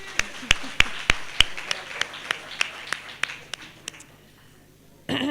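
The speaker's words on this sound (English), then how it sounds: "I think he deserves another round of applause." Sparse claps ring out from a small audience at a democracy celebration in KwaZulu-Natal, a dozen or so distinct hand claps at an uneven pace that thin out, followed by a short burst of broader noise at the end.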